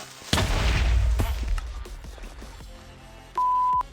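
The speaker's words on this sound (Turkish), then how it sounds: "Evet Ayberk'im patladı" A single loud, crunchy Minecraft creeper explosion bursts out and slowly fades, followed moments later by a short steady electronic beep.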